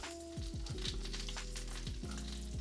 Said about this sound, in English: Okay, the bacon is almost getting crispy.